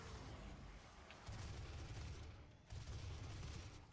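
A double-barreled super shotgun blasts in a demon-filled first-person shooter, two heavy booming shots a little over a second apart over a low rumbling game backdrop.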